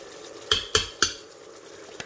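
A spoon clinks three times in quick succession against the inner pot of an Instant Pot Duo 7-in-1 as yogurt is stirred into lamb, followed by a softer tap about a second later. The taps are fairly close and sound with no talk.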